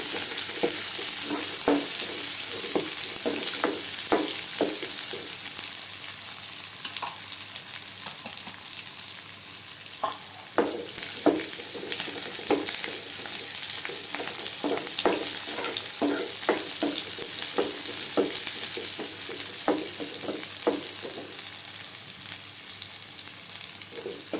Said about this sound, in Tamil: அடுத்து கருவேப்பிலை சேர்த்துக்கலாங்க வெங்காயம் நல்லா வதங்கிட்டுங்க